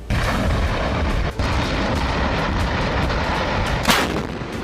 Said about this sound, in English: caliber advanced towed artillery gun system, and the second one is the mounted gun system